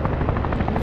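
Close, loud aircraft engine drone heard from aboard the plane in the VR game Virtual Battlegrounds, a continuous throbbing hum with a fast pulsing beat and no talk.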